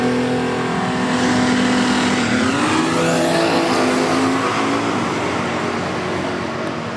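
Drag race cars at a no-prep racing event in Sydney, a turbocharged Barra-engined Holden against a big-block car, roar at full throttle as one loud engine note climbs steadily, close and continuous for the whole clip.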